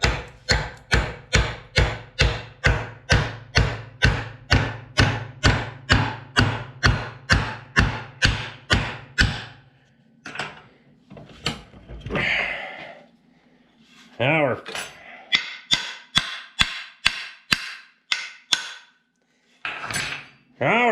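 Steady, evenly spaced hammer blows drive a steel wedge into a wooden pickeroon handle, about twenty in a row, then a pause followed by scattered knocks and brief muffled voices.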